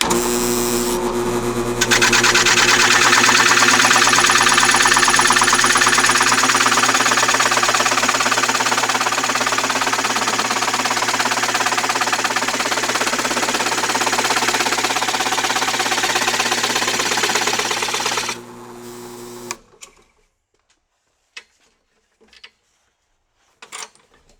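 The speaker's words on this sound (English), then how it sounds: "I got the belts tightened up in the drill press, so now we should be ready to complete the cut" A drill press drives a dull rosette cutter bit into a wooden board, a loud steady droning whine with a constant machine hum for about eighteen seconds, then it cuts off and a few faint clicks follow.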